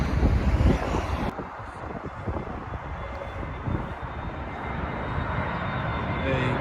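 A British Airways airliner arriving from Corfu, Greece, comes in to land at Heathrow Airport, its engine roar steady and moderately distant beneath heavy wind buffeting on the microphone.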